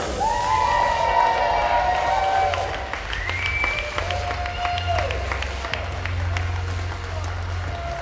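Wrestling fans in an arena at Black Diamond Harley-Davidson cheer and applaud for the entrance of the AAPW heavyweight champion, a loud, steady crowd roar with whistles and shouts lasting throughout.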